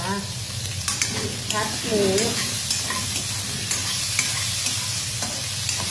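Pork and cabbage stir-fry in a hot pan, a steady close sizzle with repeated scraping and clattering strokes of a spatula throughout, no speech.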